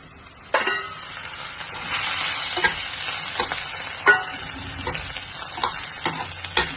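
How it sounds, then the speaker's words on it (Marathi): Steamed green peas are added to sizzling masala for a Maharashtrian curry and stirred in a pan. Close frying hiss runs under repeated spoon scrapes and knocks at an irregular rhythm, with no voices. "आता आपण यात वाफवलेला मटार टाकूयात."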